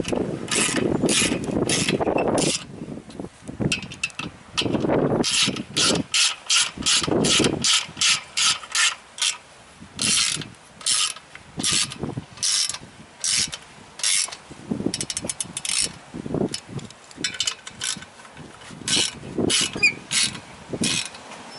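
Ratchet clicking steadily while tightening clutch pressure plate bolts in an X pattern, with quick bursts of pawl clicks broken by brief pauses and shifts between bolts, close and clear, no speech.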